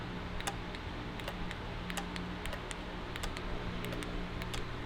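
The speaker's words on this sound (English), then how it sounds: "we'll just have to turn on the car and see if we can get that light come on and hear it click the relays" Relays in the exhaust valve wiring of a Ferrari 458 click in a quick, irregular series of sharp ticks over a steady low hum, close by and fairly faint.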